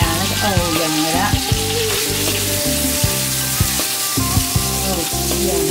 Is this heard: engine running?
no